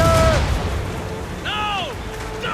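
Ship cannon fire in the video game Assassin's Creed Rogue: a heavy boom opens the stretch, followed by whistling, descending tonal sounds, with voices nearby.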